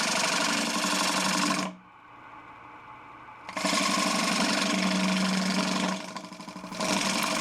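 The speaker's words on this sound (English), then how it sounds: "First flat, and then turned up on one corner for a shear scrape." Round scraper shear-scraping a wooden chip and dip server turning on a lathe, a loud rough buzzing scrape in two long passes broken by a pause where only the lathe hums, then a brief dip before resuming.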